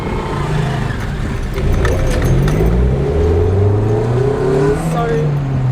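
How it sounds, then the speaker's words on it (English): A car engine idling and rising slightly as the driver holds the car still on the clutch alone, a steady low rumble with gentle revving swells under continuous talk. "I'm balancing the car with the clutch only and the car standing still"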